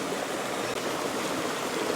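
A canyon stream among boulders in Mark Twain National Forest flows with a soft, even, continuous rush of water, fairly quiet and unaccompanied by voices.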